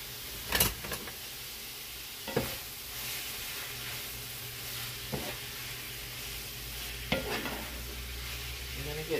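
Food frying in a pan and being stirred for a noodle dish seasoned with garlic pepper, a steady close sizzle broken by a few sharp scraping stirs.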